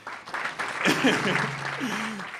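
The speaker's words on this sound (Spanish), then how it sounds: "Que tengáis un fuerte aplauso, claro que sí." An acoustic concert audience applauds under a voice, the clapping a moderate rustling wash that rises and lingers as he keeps talking.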